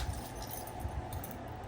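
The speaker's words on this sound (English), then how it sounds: "I'm gonna use my keys." Keys jangle and scrape against packaging while being used to cut open a package holding a baseball display, a low steady rustle with a few soft clinks.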